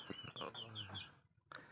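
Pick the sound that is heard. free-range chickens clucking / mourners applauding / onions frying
free-range chickens clucking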